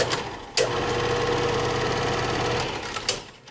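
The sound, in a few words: 1973 Kodak Moviedeck 455 8mm projector mechanism running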